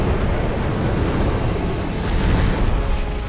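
The Ancient Dragon in Dark Souls 2 unleashes its fire attack, a loud, dense, roaring rumble that stays heavy and continuous throughout, with no voices.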